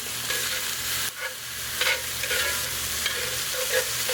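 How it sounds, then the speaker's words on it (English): Vegetables for eggplant stuffing sauté in a pan with a steady soft sizzle, punctuated by brief bursts as they are stirred or tossed, close by and without talk. "So let's get those veggies sweated down a little bit."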